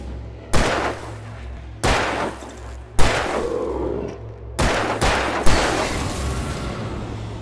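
A gun fires in the video game Alan Wake Remastered, with five or six sharp, loud shots spaced about a second apart. Each shot has a booming tail over a low, steady drone.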